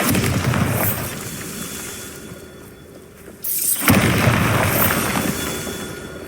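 The Bombarda explosion spell goes off in Hogwarts Legacy: a steady rumbling bed drops away briefly, then a sudden loud, close blast bursts in and rolls on as a heavy, sustained roar.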